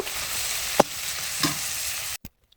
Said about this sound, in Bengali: পরিমাণ মতো হলুদ গুঁড়ো সুন্দর করে ভাজি করে নেব